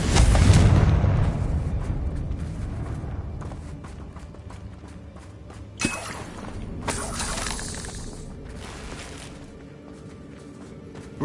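The Confringo fire spell bursts in Hogwarts Legacy with a loud explosive crack and shattering rumble, followed by a quieter stretch broken by a few sharp impacts.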